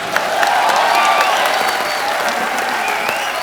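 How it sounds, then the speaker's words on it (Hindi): Studio audience at a Kapil Sharma Show taping breaks into loud, sustained applause with some crowd cheering, a dense steady clatter of clapping that fills the whole stretch. "तो जोरदार तालियां."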